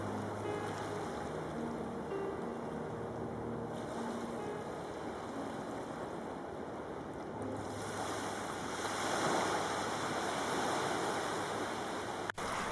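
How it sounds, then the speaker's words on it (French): Sea waves break on a shore in a steady, soft wash of surf, a continuous low roar that swells slightly near the end, with no voices. "Le bruit du ressac améliore ainsi la conscience de soi et le bien-être émotionnel."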